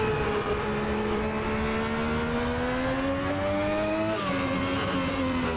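A Ferrari 641 Formula One car in Assetto Corsa screams along at high revs, its engine pitch climbing steadily, then dipping sharply with a gear change before rising again, loud and alone.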